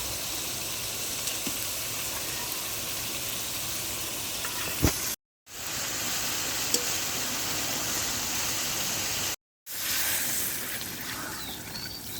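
Dried fish (shutki) cooks in a hot pan with a loud, dense, unbroken sizzle and frying crackle heard up close. It is cut by two brief silent gaps, with a couple of faint clicks and no voices.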